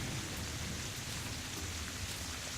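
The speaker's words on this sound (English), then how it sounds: "It is raining, so that should give me a boost." Rain in the video game Terraria falls as a steady, dense hiss of droplets with a low rumbling undertone, constant and even throughout, with no voices.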